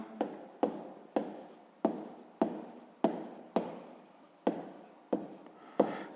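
A pen writes on paper in short, regular strokes, about a dozen crisp scratching bursts at an even rhythm, close and quiet with no voice over them.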